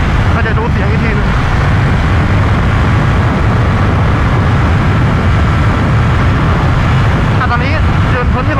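A Ducati SS 939 motorcycle is ridden at 104 km/h, and wind roar and engine drone blanket everything in a loud, steady rush that never lets up. A rider's voice comes through faintly under the noise.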